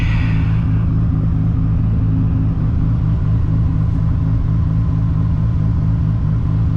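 Toyota Supra MK4 with a 1000+ horsepower engine pulling away from a stop, a deep, steady low rumble close up and continuous throughout, without a sharp rev rise.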